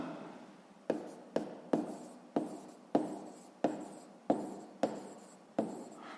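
Chalk or pen strokes write out a sixth-grade maths exercise about the side of a square, with about ten sharp, regular taps and scratches close by and no talk.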